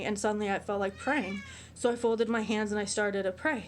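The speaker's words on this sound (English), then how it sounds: "oh, that's my cat meowing." A pet cat meows several times in a small indoor room, the calls running alongside and partly under a person talking steadily nearby.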